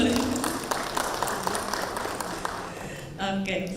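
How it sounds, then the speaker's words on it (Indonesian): An audience at a marketing conference claps throughout the room, a steady wash of many hands that holds for several seconds, with talking rising near the end. "tepuk tangan boleh."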